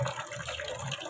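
Water runs from a tap while laundry is hand-washed, a soft, steady trickling splash close by with no talking.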